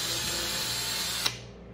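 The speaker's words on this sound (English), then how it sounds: "You're just going to take that drill" A power drill bores a hole into a kayak hull to mount a gear track, its steady whir running in the background and ending with a brief sharp click as the bit pushes through.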